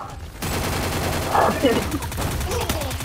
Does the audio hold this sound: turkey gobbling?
no